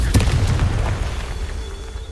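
In the Hogwarts Legacy video game, a Confringo fire spell goes off in a short, close, booming blast that fades out over about two seconds.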